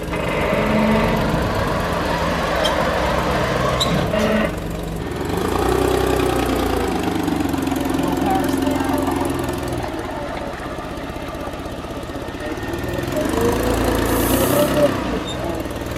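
A 2013 Jeep Wrangler engine idling with a bad exhaust leak, giving a rough, ticking, puffing rumble up close that rises and falls slightly across the clip, with background voices.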